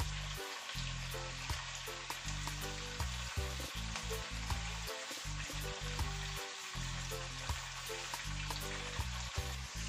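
Meat sears loudly in a hot pan for a Portuguese stew, a dense, continuous sizzle and crackle up close, with no voices.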